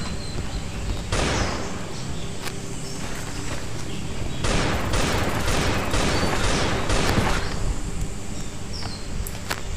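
A shotgun fires in the survival video game Last Day on Earth: Survival. Sharp, loud blasts come one after another in close succession, with dense crackling bursts and game ambience in between.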